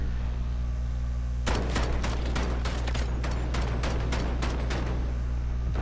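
Shotgun blasts in Call of Duty Modern Warfare, a rapid burst of loud, sharp reports in quick succession over a steady background hum after a short quiet lead-in.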